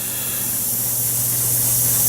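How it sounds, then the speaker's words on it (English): Airbrush spraying paint at around 5 psi onto HG model kit parts, a steady continuous hiss that holds up close and fairly loud for the whole stretch, with no talking. "I'm spraying at about 5 psi, maybe a little bit higher."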